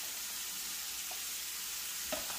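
Meat browning in a pan for crock pot cowboy beans, giving a faint, steady, hissing sizzle with a couple of soft clicks near the end and no talk.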